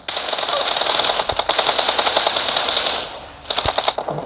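Rapid automatic gunfire in an online shooter game crackles in long sustained bursts, loud and close, pausing briefly before a final short burst.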